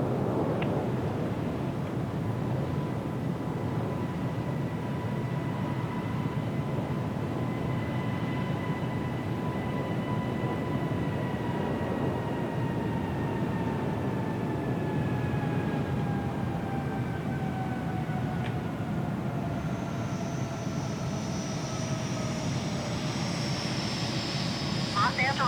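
Simulated airliner jet engines at Los Angeles International Airport in Microsoft Flight Simulator 2020 give a steady loud broadband roar with slowly falling whine tones, as of a jet passing or spooling, and a high whistle joining near the end.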